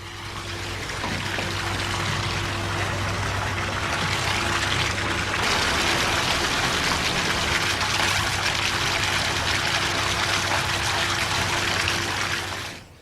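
Molten candle wax is pumped into great barrel-like vats holding 2.5 tons each at a Dublin candlemaker. It makes a loud, continuous rushing pour with a steady hum beneath, running unbroken before fading at the end.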